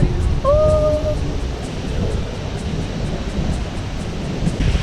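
Sea waves wash in steadily on Mobor beach in Goa, a continuous broad rushing surf mixed with wind buffeting the microphone, with no clear talking.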